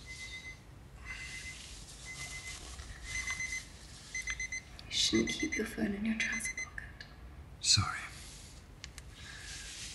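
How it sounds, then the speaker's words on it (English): Indoors, an alarm clock rings with a thin electronic beeping that repeats, fairly faint and partly buried under soft talk between two people. "That's the alarm."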